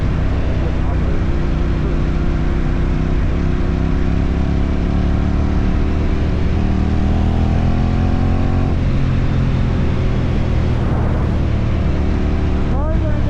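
Motorcycle engine running and revving while out riding, loud and continuous throughout with rising and falling pitch from throttle changes, close up and steady over road noise.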